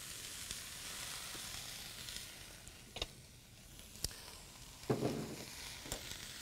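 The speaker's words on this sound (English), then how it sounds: "now, once we get that browned up, we're gonna add our rice in there" Rice sizzles in a pan with browned meat for jambalaya, a steady close hiss of frying with occasional stirring scrapes and clinks, no talking.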